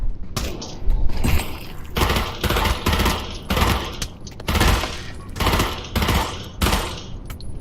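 Bursts of automatic gunfire from a held rifle in the VR shooter Pavlov VR, several loud sustained volleys separated by short pauses, close and harsh with mechanical clatter between bursts.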